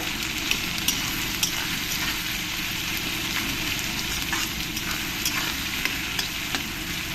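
Onions with a spoonful of salt frying in a pan, a steady, even sizzle with occasional small pops and faint stirring clicks.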